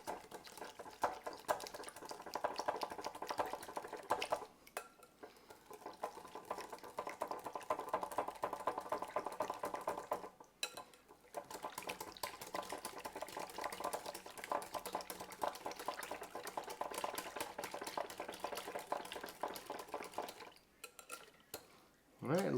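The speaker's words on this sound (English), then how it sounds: "So I'm going to go ahead and give this a whisk it up, get it nice and blended together." A whisk beats a lemony Alabama-style white sauce in a bowl, quiet rapid scraping and clinking in steady bursts with brief pauses.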